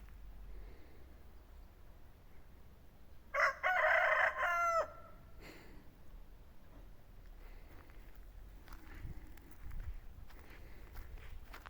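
A rooster crows once, loud and clear, amid quiet outdoor ambience; soft rustling and a few faint clucks follow.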